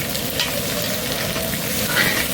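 Ginger, chili and tomato fry in a pan with a dense, continuous sizzle and light stirring scrapes, close and steady throughout.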